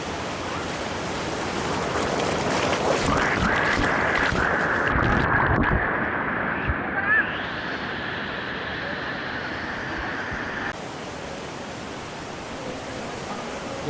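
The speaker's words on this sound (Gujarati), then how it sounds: "યમુના માતાનો પ્રવાહ તમે જોઈ શકો છો" The Yamuna flows as a cold mountain stream near its source at Yamunotri, a continuous close rushing wash of water that stays steady and broad from start to end.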